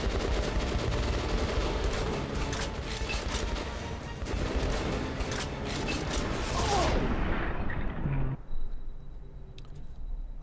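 Rapid bursts of gunfire and crashing impacts from the video game Metro Last Light, dense and loud through most of the stretch before dropping to quieter scattered hits.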